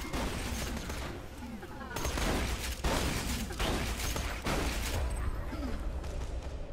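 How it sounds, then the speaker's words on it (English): A rapid-firing gun in the video game Borderlands 2 lets off quick clustered bursts of shots at moderate volume, with someone talking over the gameplay. "this gun actually fires way faster than I thought it did"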